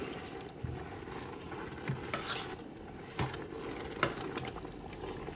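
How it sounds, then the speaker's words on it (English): Spaghetti being stirred in a pan makes a steady, soft scraping and sloshing with occasional louder clacks of the utensil against the pan, a low sizzle running underneath throughout. "And then we're gonna just start stirring it up."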